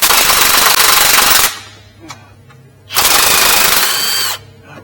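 An impact wrench fitted with an 18 mm swivel socket, working on the front control arm of a BMW 328i xDrive, fires two loud, close, rattling bursts of about a second and a half each, separated by a short quiet pause.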